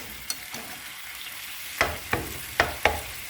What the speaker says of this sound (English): You can see it's already starting to fry a little bit.